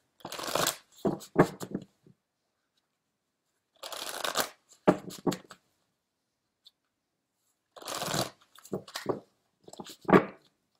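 Tarot cards shuffled in three separate bursts of quick, crisp riffling and flapping, close and fairly loud, with silent gaps between the bursts.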